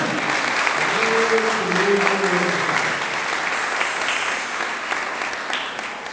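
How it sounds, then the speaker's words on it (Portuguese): Guests at a baptism ceremony applaud steadily and fairly close, with a few voices speaking over the clapping early on before the applause slowly tapers. "uma salva de palmas aí para elas, né?"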